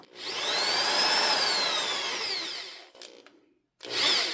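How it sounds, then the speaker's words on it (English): A power drill drives a bit through a wooden tool handle, whirring steadily for a few seconds with a rising and falling pitch, pausing briefly, then starting up again, close and loud. "put it on a drill bit and drill it through."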